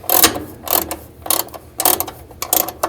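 Hand ratchet with a 9/16 socket snugging a bolt on a Speed Queen dryer during a main belt change: five quick bursts of close, crisp clicking, each a short run of pawl ticks separated by brief pauses.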